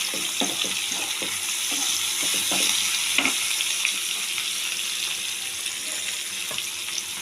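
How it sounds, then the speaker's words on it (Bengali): Onions and tomatoes fry in hot oil with turmeric and salt, a continuous sizzle with irregular stirring scrapes and clatters in the first half, no talking. "এবার তেলের মধ্যে দিয়ে দিচ্ছি একটু হলুদ, একটু নুন, এই পেঁয়াজ টমেটোগুলো ভাজার জন্য।"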